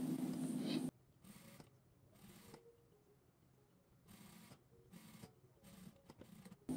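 A sewing machine stitches fabric for a homemade summer T-shirt, running a second seam line 0.5 cm from the outer seam. Several short bursts of whirring stitching stop and start close by, with quiet pauses between them and no talk.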